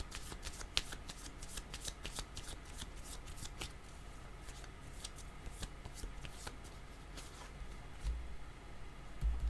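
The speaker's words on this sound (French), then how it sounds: "J'avais mélangé mon autre jeu de cartes." A deck of cards being shuffled again and again, rapid crisp riffling clicks repeating steadily up close for nearly ten seconds, with no voices.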